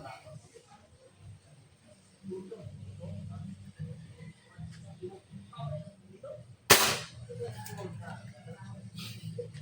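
One sharp, loud crack from an airgun that needs no CO2 or PCP pump stands out near the end, with someone talking quietly before and after it.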